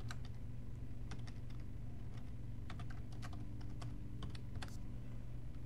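Someone types on a computer keyboard: quiet, irregular clicks and taps in short runs over a steady low hum, with no speech.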